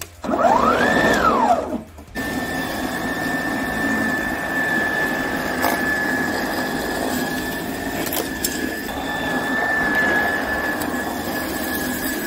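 A Ryobi 18V ONE+ RY18SFX35A-240 cordless lawn scarifier/aerator whines as its motor spins up, then settles into a steady, close electric hum with a high tonal whir that runs unbroken, with no talking.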